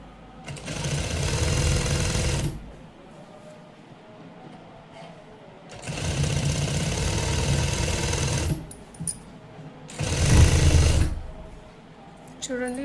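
A sewing machine stitches the sleeves onto a blouse in three separate loud close bursts, each a few seconds long with a rapid needle rhythm, and near-quiet pauses between them.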